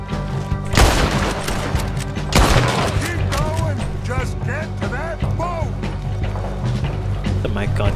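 Shootout gunfire in Red Dead Redemption 2, rapid cracking shots and heavy booms fired in bursts over a busy battle din, with voices shouting during the fight.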